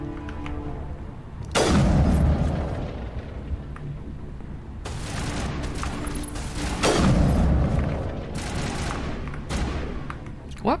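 Video game gunfire in heavy bursts, with several loud booming volleys separated by quieter stretches, mixed with game sounds.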